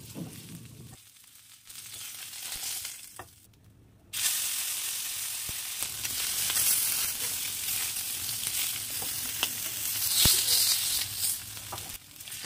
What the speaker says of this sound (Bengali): তো সব মাছগুলো আমার ভাজা হয়ে গেছে।